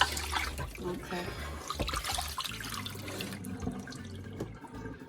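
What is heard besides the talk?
tap water running onto oxtail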